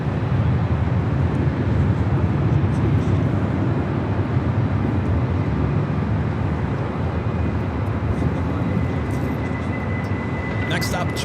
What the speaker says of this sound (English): Japan Dreamliner coming in from Osaka, Japan.